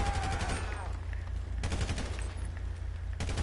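Rapid bursts of gunfire in the game GTA V, in a run of shots at the start, then again mid-clip and near the end, loud and close, with faint speech underneath.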